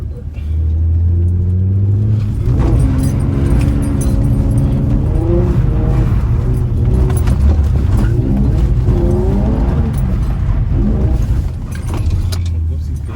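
Nissan G35 6-speed coupe with a VQ35DE engine drifting on a street, its engine roaring and revving loudly and continuously up close, with pitch rising and falling through shifts and tire noise mixed in.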